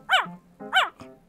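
A dog in a Stardust Crusaders cartoon barks and growls in three close, loud bursts, two rough yelping barks and then a shorter growl, with no talking.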